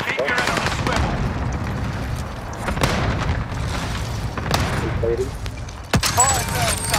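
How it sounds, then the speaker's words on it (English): Cluster strike explosions and gunfire in Call of Duty: Modern Warfare, with steady loud booms and bursts of shots throughout and sharper blasts near the end, under a busy battlefield mix. "Allied cluster strike arriving."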